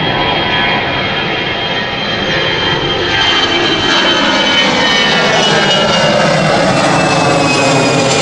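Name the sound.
airliner taxiing and lining up on runway at Gatwick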